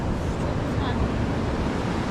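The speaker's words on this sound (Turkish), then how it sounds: "Nispeten Gulibik'e göre dalgalar daha az." Ocean waves wash steadily onto the beach at El Nido in the Philippines, a continuous loud roar of surf mixed with wind buffeting the microphone.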